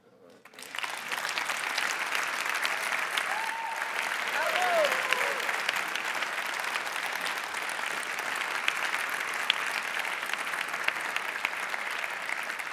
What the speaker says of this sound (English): I would like to hear now a big applause for this wonderful team.